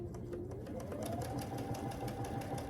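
Sewing machine stitching small quilt block pieces for a Grinch block, a steady, rapid mechanical whir with fine ticking needle strokes, running continuously and up close.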